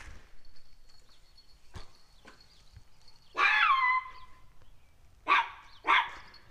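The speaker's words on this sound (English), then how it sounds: "These dogs bark at everything, man." A husky barks outdoors, one drawn-out bark followed by two short sharp ones after a stretch of quiet, fairly close and loud.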